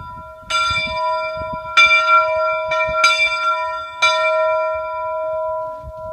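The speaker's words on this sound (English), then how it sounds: "You can be your own train engineer, see? And ring a bell." A visitor at Laws Railroad Museum in Bishop, California rings a train bell, four or five clear, ringing strikes at uneven intervals, each one sustaining and overlapping with the next, close and loud.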